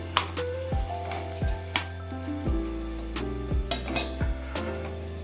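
Chicken with ginger garlic paste fries in a covered pan, a steady soft sizzle broken by a series of sharp clinks and knocks of a utensil against the pan and lid.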